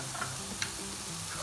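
Mushrooms being stirred in a pot of soup with pepper, a soft continuous sizzling bubble with faint light clicks of the spoon, quiet and close.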